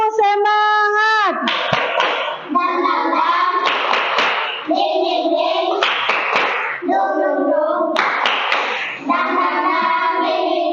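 A fifth-grade class claps out a rhythmic cheer together, sharp bursts of hand claps alternating with a woman's and children's voices calling out over a room.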